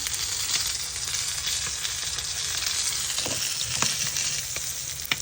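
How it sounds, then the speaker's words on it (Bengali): A spice paste fries in a pan with a dense, steady sizzle and occasional faint stirring clicks close by. "ভালো করে মশলাটা কষা নিব"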